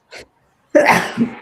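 A single sneeze bursts out close and fairly loud, with a brief soft breathy sound just before it and a short trailing vocal tail after.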